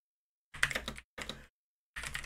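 Quiet computer keyboard typing in three short bursts of rapid clicking, separated by brief silent pauses.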